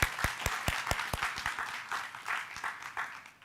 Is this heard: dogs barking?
no